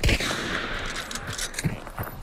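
Gunfire in the video game Hunt: Showdown, a few scattered shots of moderate loudness ringing out over a steady ambient bed, with no one talking.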